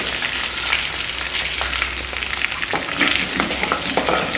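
Tadka for masala rice frying and being stirred in a pan, a steady close sizzle with scattered crackles and spatters running throughout, no voices.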